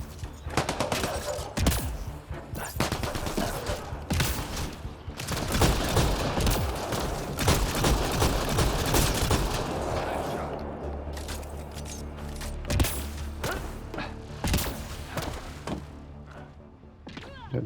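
Shotgun gunfire and combat in the Mass Effect: Andromeda video game: repeated loud sharp blasts and thuds spread through a busy battle mix, with clusters of shots at the start and again near the end.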